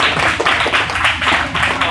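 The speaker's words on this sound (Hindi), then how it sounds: "इनामात लेने के लिए तालियां बजा सकते हैं थोड़ी बहुत।" An audience at an award ceremony claps as students are called up to receive prizes, giving dense, close applause in uneven surges over about two seconds.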